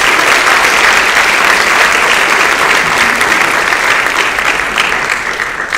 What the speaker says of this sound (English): round of applause for this year's football team